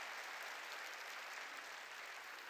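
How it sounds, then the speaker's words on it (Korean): An audience at a church sermon claps in a continuous, even burst of applause that stays steady throughout, moderately distant and without voices over it. "깨달은 사람만 박수 치든지 말든지 하라고요"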